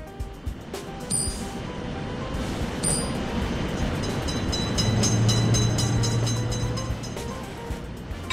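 Steady rolling rumble of a train passing through a level crossing in a railroad crossing simulator game, continuous and fairly close, with faint high clicks early on and a low hum rising toward the end.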